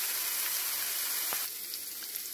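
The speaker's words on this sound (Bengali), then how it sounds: "বাটা মশলাটা একটু ভাজা ভাজা হয়ে যাওয়ার পর কেটে রাখা আলুটা এর মধ্যে দিয়ে দেবো।" Cut potatoes fry in ground spice paste in a pan, giving a steady, close, even sizzle with a faint clink partway through and no talk.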